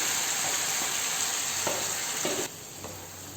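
Chicken gravy masala with curry leaves frying in a pan, stirred constantly over medium heat: a loud, close, steady sizzle with rhythmic spoon scrapes that eases slightly near the end.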